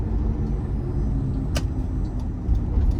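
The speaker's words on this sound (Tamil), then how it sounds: "இப்போ பாருங்க, இப்போ வண்டியோட யூ-டர்ன் ரேடியஸ் பார்த்துடலாம்." A Ford Endeavour 3.0 litre SUV makes a U-turn, its low, steady engine rumble heard from inside the cabin, rising slightly near the end, with a brief click partway through.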